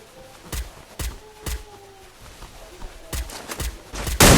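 A teammate's gunfire in a video game duo tournament: sharp single shots spaced about half a second apart, in two short bursts with a quieter lull between, plus faint tonal game sounds in the background.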